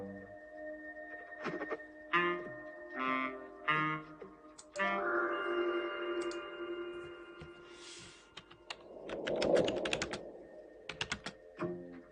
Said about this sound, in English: Typing sounds. They were recorded back.